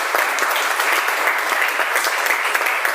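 A church congregation claps together in steady, dense applause that fills the space evenly and loudly from start to finish.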